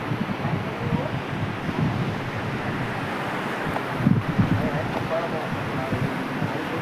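Sea waves and wind on the shore at Dwarka give a steady, moderately loud rush, with microphone buffeting and a brief louder gust near the middle.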